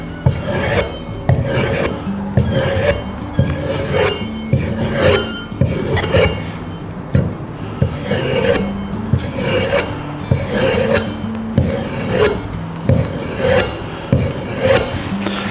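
A leatherworker's head knife being sharpened with rapid, rhythmic rasping strokes, each stroke loud and close, repeating steadily in a brisk back-and-forth pattern with no talk.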